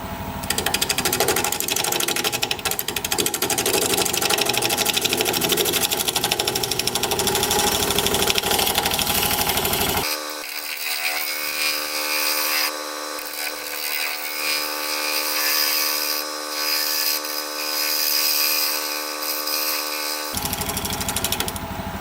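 A wood lathe spins a wooden vase while a scraper works the surface, giving a loud, continuous grinding whir; partway through the low rumble drops away, leaving a thinner, tonal, scraping hum before the full noise returns.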